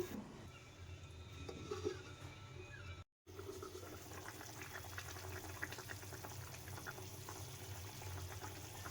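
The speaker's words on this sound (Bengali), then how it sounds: "আমি গরম জল দিলাম আমি এখন এটাকে ভালো করে ফোটাবো ঢেকে দিব কিছুক্ষণের জন্য" Bengali-style fish curry with potato, freshly topped up with hot water, boils in a covered pot, giving a soft, continuous bubbling and simmering hiss that stays faint and close, briefly cut by a gap of silence.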